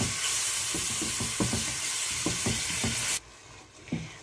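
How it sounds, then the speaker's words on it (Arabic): Chicken pieces sizzle loudly in hot oil with onion in a pot, with repeated stirring scrapes before the frying drops off abruptly to quiet, followed by a couple of softer clinks. "غنزيد هاد الطريفات ديال الدجاج حتى هما غادي نشحرهم مزيان حتى يطيحوا"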